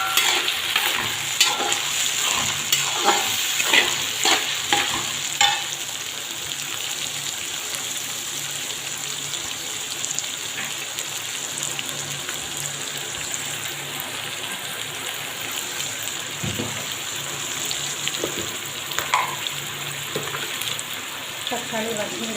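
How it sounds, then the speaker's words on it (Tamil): Tomatoes sauté in a pan for a morning tiffin, a steady sizzle and hiss running throughout, with a few stirring scrapes near the start and occasional clinks. "தக்காளி வதங்கிறதுக்கு கொஞ்சம் உப்பு போட்டுக்கலாம்."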